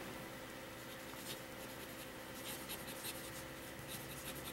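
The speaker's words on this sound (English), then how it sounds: "Now I'm going to put it on fountain pen friendly paper." A fountain pen with a freshly smoothed nib writes and scribbles on fountain-pen-friendly paper, giving a soft, continuous scratchy rustle with brief bright strokes, close and quiet with no talking.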